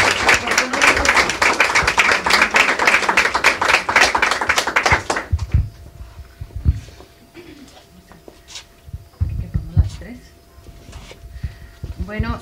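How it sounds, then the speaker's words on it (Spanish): Audience at a job orientation expo and human talent management forum in Palmares gives a burst of loud, dense clapping for about five seconds that then stops abruptly, leaving a quiet room with scattered small knocks and shuffles. "les pido un aplauso para el licenciado Josué Jiménez y la licenciada Montserrat Ruiz"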